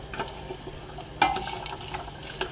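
A wooden spoon stirs onion and carrot softening in a soup pot for meatball soup, with soft sizzling under irregular scraping and knocking strokes, one sharper knock near the middle, close and fairly quiet.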